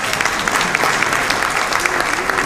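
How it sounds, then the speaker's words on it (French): Fashion show audience applauding, a short burst of dense, steady clapping from many hands at close range, with faint voices mixed in. "Qu'on applaudisse pour STV, mesdames et messieurs."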